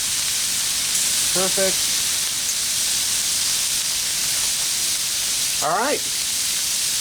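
Shrimp fajitas sizzle in butter on a Blackstone griddle, a steady loud hiss that runs the whole time while someone speaks briefly over it.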